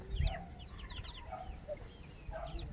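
Ducklings peeping in a quiet spot: faint, high chirps come in small clusters over a low background rumble, with a soft thump near the start.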